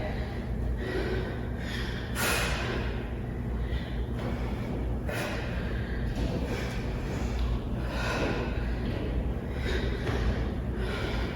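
Heavy breathing during an exercise workout, with repeated forceful exhales and sniffy snorts at irregular intervals over a loud, constant background hum.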